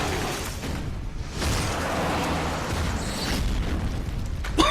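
A bomb explodes in Metal Gear Solid: Peace Walker, a loud, sustained boom with a roaring, crackling tail that holds steady for several seconds before one last sharp burst near the end.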